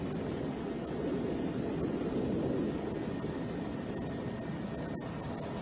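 A helicopter flies with a steady, dense rotor and engine roar that holds at a constant moderate level throughout, with no voices.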